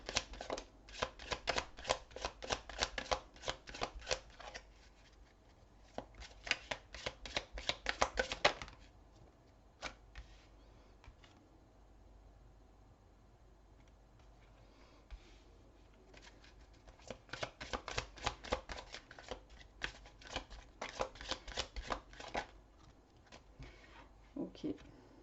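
Tarot cards are shuffled for a card reading in rapid riffling bursts: a long run, a short pause, another run, a quiet stretch with a single snap, then a final long shuffle, close and fairly soft.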